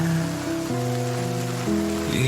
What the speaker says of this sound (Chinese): 下雨了，回去吧。